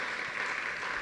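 An audience gives a round of applause after a keynote talk, with brief, even, continuous clapping from a room of people.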